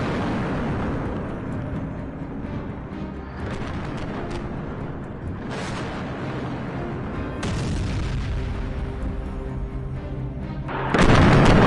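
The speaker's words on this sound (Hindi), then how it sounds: "दक्षिणी लेबनान में ऐसे धमाके दिन रात हो रहे" Heavy bomb blasts in southern Lebanon, a continuous deep rumbling roar with several distant booms rising through it and a louder, sharper burst near the end.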